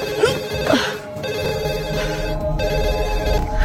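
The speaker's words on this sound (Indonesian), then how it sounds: "Namun sedang asik-asiknya bermain games, dia dikejutkan dengan sebuah telepon" A telephone rings in a horror film, a steady electronic ring running loud and continuous through a tense, atmospheric scene with no talk.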